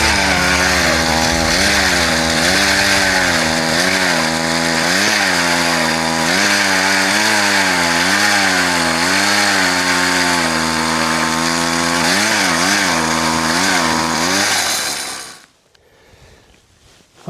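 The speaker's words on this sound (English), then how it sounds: "I'm drilling through about 3 inches on top, and then a couple inches of water, and then back down into some ice." A gas ice auger drills through soft, rotten lake ice while ice fishing for rainbow trout, cutting about three inches of ice, a layer of water, then more ice. A loud, steady engine drone with wavering pitch runs about fifteen seconds, then cuts off into silence.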